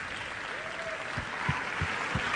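Audience applause for a court jester-style rhyming performance, a steady wash of clapping with a few heavier low thumps near the end and faint voices underneath.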